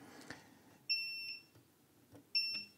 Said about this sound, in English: One side of these caps will beep, the others won't.